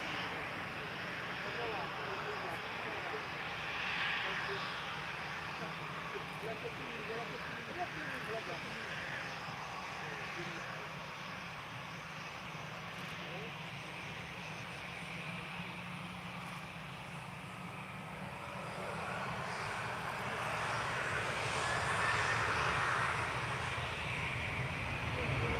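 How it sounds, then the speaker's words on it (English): A private jet taking off at an airport, heard as a steady, distant broadband roar that grows slightly louder and brighter toward the end, with no clear speech over it. "Seems like private jet is just proceeding"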